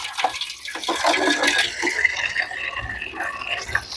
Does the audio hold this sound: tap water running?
yes